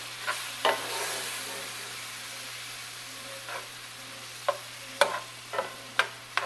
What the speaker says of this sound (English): we'll just let this simmer for a few minutes